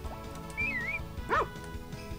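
A dog in the Harvest Moon: Back to Nature farming video game gives a short synthesized bark and yip over looping game music, with a brief whistling chime just before it.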